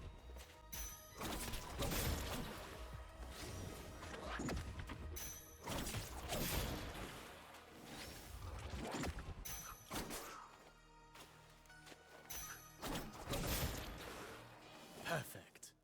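Heavy impact hits and crashes land repeatedly amid whooshes and grunts, loud and dense: aerial smash attacks in Prince of Persia: The Lost Crown.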